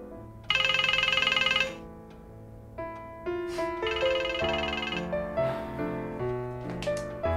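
A telephone ringing tone heard while calling a father, a loud, steady burst of bright ringing near the start, followed by synthesized ringtone-like musical notes that continue in a rising, stepwise pattern to the end.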